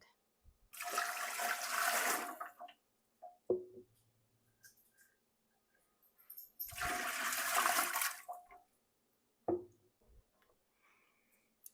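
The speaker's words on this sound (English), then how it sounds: "My pressure canner requires 3 quarts of water to start. I'm going to dump these in" Water rushes in two separate long pours into a pressure canner, each lasting about two seconds, and each pour is followed by a brief clunk or knock in an otherwise quiet room.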